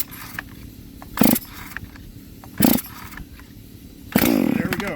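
A Stihl 440 clone chainsaw, freshly filled with gas and bar oil, gets three rasping starter pulls a second or so apart. The last pull catches into a louder, rising engine roar that carries to the end.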